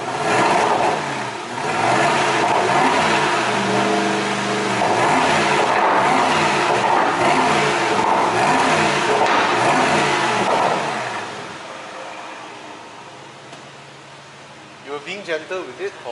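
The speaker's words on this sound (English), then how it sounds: "Let's listen to the car." An Aston Martin DBX engine revs hard and loud several times, roaring up and down, then settles to a lower idle with a few sharp blips at the end; voices murmur underneath.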